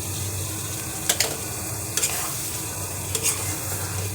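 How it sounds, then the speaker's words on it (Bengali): A spoon stirs fish curry with coconut in a pan, and a soft continuous sizzle runs underneath. Three distinct scraping strokes against the metal stand out, close and clear. "মাঝে মাঝে একটু নেড়ে দিবেন, নাহলে নিচে লেগে যেতে পারে নারকেল দেওয়া।"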